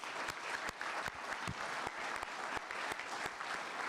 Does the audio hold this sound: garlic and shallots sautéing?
no